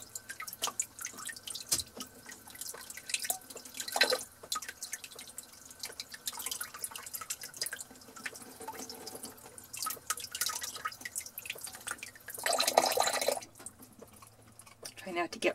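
Tap water running and dripping into a sink while chicken legs are rinsed, a faint irregular patter of drips and splashes with a louder gush near the end.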